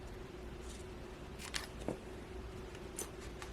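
Scissors snipping a thin Bible page, a few faint crisp cuts scattered over a quiet background with low hum.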